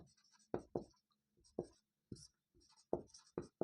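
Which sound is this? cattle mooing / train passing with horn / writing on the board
writing on the board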